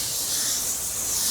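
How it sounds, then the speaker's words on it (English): A spray gun hisses steadily as coarse metallic paint, Toyota color 1H1, is applied to a Toyota bumper, a close continuous airy spray with no break and no talking. "The color I'm spraying on it is 1H1, which for those who do not know is an extremely coarse metallic color"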